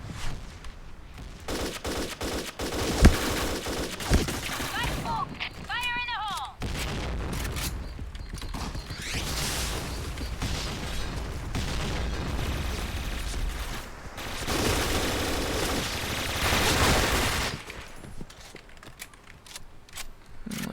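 Dense automatic gunfire and bursts from a Point Blank online shooter match run nearly the whole stretch, loud and continuous with brief pauses, while a player talks over the shooting.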